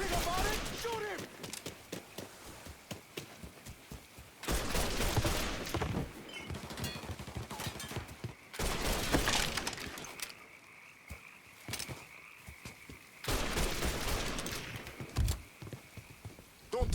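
Repeated bursts of gunfire in the video game Mafia III, coming in several dense volleys separated by short pauses, with shouting voices in between.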